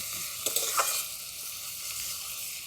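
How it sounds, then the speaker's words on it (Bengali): Sliced onions fry gently in a pan for sambar, a soft, close sizzle with a couple of brief stirring scrapes near the start, then an even hiss. "বেশি ভাজা চলবে না তার পেঁয়াজটা যেন পুড়ে না যায়"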